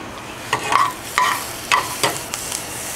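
Green pepper frying and stirred in a pan, a soft sizzle under a series of distinct scraping stirs roughly every half second, close and fairly clear with no voices.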